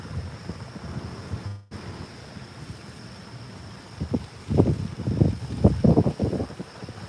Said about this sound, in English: the water, where the wind's blowing